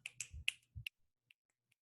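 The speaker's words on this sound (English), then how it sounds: "Maybe a snap." Several crisp finger snaps in quick succession, close and clear, in a quiet room, followed by two fainter clicks.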